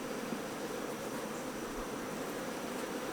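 Honey bees buzzing in an opened hive made of deep boxes: a steady, dense close hum throughout with no other sounds.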